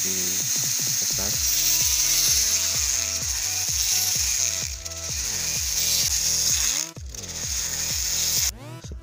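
Electric drill bores a larger hole through a carved wooden face pendant, a rapid series of loud grinding, ratcheting bursts that repeat in an even rhythm, with a few longer high whines near the end.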